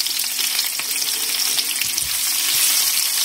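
Onion sizzles in hot oil in a wok for a vegetable and prawn stir-fry, a steady, close, loud crackling hiss with small spits throughout and no talk.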